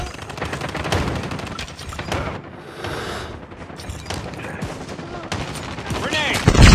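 Gunfire in a shooter video game: dense bursts of rapid automatic shots and sharp cracks, loud and close, continuing throughout with a heavy boom at the end, while voices call out over the shooting.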